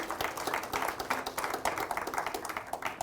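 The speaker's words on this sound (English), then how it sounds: "A round of applause for him." An event audience gives a round of applause at a brand awards gathering, heard as faint, steady, rapid clapping from many hands at some distance, continuing throughout.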